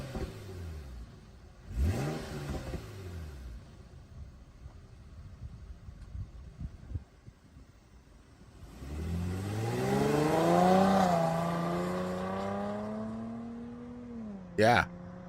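A car engine revs hard in two bursts, rising and falling in pitch, with a sharp final burst near the end; people talk faintly underneath.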